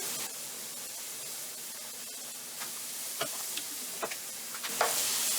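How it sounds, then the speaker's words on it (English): About a cup of onion sautés in a pan for cottage pie, producing a soft, steady sizzle with occasional scraping stirs and light clicks of the utensil, close but fairly quiet. "And then we are going to saute until they begin to take on color"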